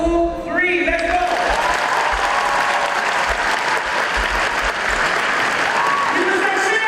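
A graduation ceremony audience of students and parents at Mount Alvernia High breaks into loud, sustained applause, dense clapping that fills the hall continuously with a few voices rising over it.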